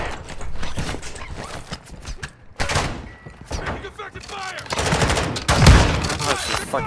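Shotgun blasts and other gunfire ring out in Call of Duty DMZ, loud and close, several sharp reports spread unevenly across the stretch and mixed with clattering movement and scattered talk.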